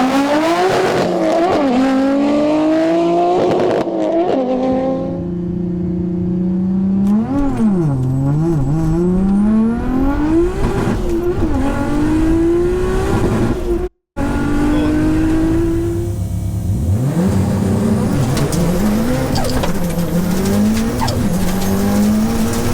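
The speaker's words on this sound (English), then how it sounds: "let's see how these all-wheel drive manual beasts get off the line" Nissan R32 GTR and Subaru Impreza, both all-wheel-drive manuals, launching side by side in a drag race: loud engines rev hard and climb through repeated gear shifts, with tire squeal and a brief cut before the wail resumes, no talk.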